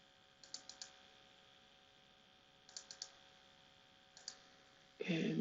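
Mouse clicks come in three small clusters of quick, faint taps over a low electrical hum at a computer while a mesh is exported to a MED file, ending with a louder burst of noise.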